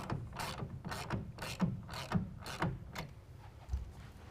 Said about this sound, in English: make sure that it's pushed all the way down against the top of the bed cap and then tighten it down all the way